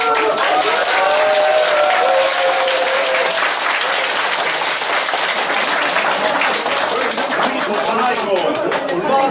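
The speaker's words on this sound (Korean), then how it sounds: "그 가부 여부를 박수로 이렇게 정하기로 하겠습니다. 박수 소리에 결정이 되겠습니다." Members at a running club's general meeting applaud to approve the next president, a loud, continuous burst of clapping from a sizeable crowd, with voices mixed in.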